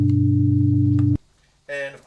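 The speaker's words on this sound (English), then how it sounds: "we're playing a G2, a B2, a D3, a G3, a D4, and a G4," Sustained chord of pure sine waves synthesized with SoX, stacked G2, B2, D3, G3, D4 and G4, holding steady for about a second before cutting off abruptly, followed by a short burst of a brighter tone.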